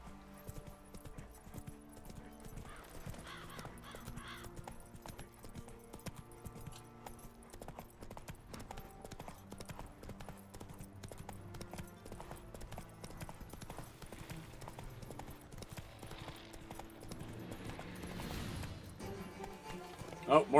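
Roach, the horse in The Witcher 3, canters along with faint, rhythmic hoofbeats beneath game music and ambience, holding steady through most of the stretch.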